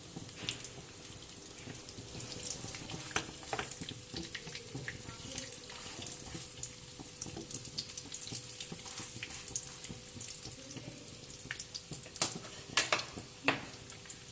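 Chicken tikka kebabs frying in hot oil, a dense continuous crackling sizzle with scattered sharper pops, close and fairly even throughout.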